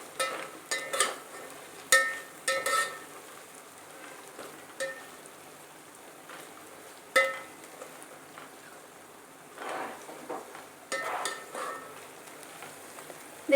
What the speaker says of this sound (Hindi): देखिए मिक्स कर ले इसे अच्छे से, ताकि हमारे जितने भी मसाले डाले थे वो अच्छे से भून जाए।